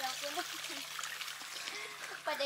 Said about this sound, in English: We'll step in to wash the feet in that fresh